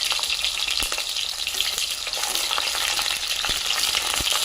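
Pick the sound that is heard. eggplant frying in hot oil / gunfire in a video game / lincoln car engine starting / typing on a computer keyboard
eggplant frying in hot oil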